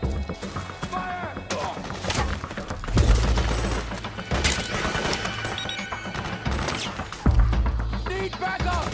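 Video game gunfire and impacts crackle loudly throughout, with several heavy booming hits standing out over a busy, chaotic mix of shots.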